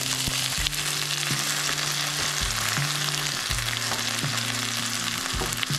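Rohu fish wrapped in gourd leaves fries in mustard oil in a covered pan over a low flame. A loud, continuous sizzle runs throughout over a low tonal melody.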